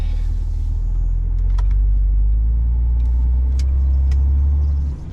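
A car driving steadily along a road, its engine rumble and tyre noise loud and constant from inside the vehicle, with a few faint clicks and no talking.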